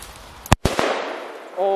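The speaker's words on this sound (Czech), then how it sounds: "Tohle je jedna z našich nejsilnějších petard zatím, že snad to půjde." A strong firecracker is set off against a large tree, giving one sharp, loud close-up blast and a second crack, then a crackling, scattering tail before a voice speaks briefly at the end.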